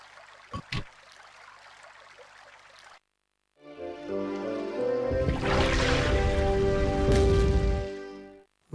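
Running water in the PS1 game Gold and Glory: The Road to El Dorado, a loud rushing stream swelling after a short silence and holding steady before cutting off.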